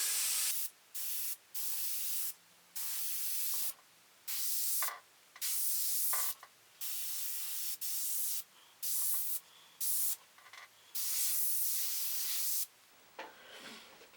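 An airbrush sprays paint in freehand flame licks, producing a series of close, steady hissing bursts of varied length separated by short silences.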